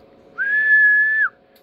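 A single sustained whistled note into a radio microphone through a Dentron GLA-1000 HF amplifier, clear and steady, held for just under a second at close range against quiet background hum.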